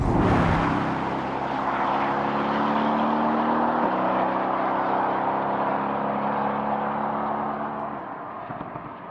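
A Mercedes-AMG GT C runs at speed, its engine humming steadily beneath a broad rush of wind noise, heard from inside the car and easing off toward the end.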